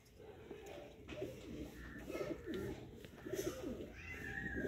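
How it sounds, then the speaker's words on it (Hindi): Soft, low pigeon coos repeat in short rolling phrases, fairly close, over a steady background hum with no talking. "बहुत ही चैंपियन कबूतर है दोस्तों।"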